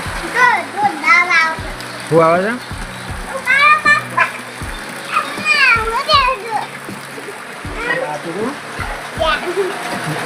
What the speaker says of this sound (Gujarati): પાછું વરસાદ ચાલુ થઈ ગયો